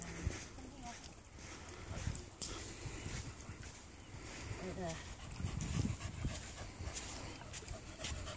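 A Staffordshire bull terrier panting on a beach, with rapid breathy huffs and a few small whimpers throughout, close by, mixed with wind and a person talking.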